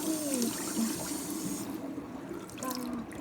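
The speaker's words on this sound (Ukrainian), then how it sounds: "Відкриваємо водичку, водичка буде гаряча." Hot water runs steadily from a household tap, a continuous close splashing rush lasting the whole moment, with brief faint vocal sounds over it.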